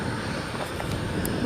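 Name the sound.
Delta Connection airliner taxiing on airport runway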